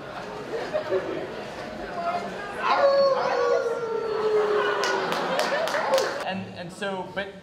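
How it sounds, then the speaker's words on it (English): A convention crowd howls together in a long, loud rising chorus, joined by a few whoops, with claps and chatter breaking in near the end. "You have to howl."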